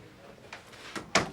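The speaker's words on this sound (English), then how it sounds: "Shut the door." A door shuts in a 1987 police drama scene, with a soft click and a sharper thud at the end, a single close impact after a couple of faint knocks.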